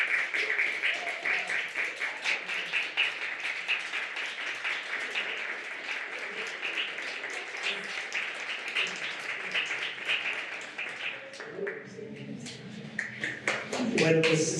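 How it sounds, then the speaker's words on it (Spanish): Sustained audience applause at a book presentation, dense clapping filling most of the stretch before thinning out near the end as a voice begins speaking. "Solamente pido un aplauso, una ovación muy sentida para el doctor Ponzín"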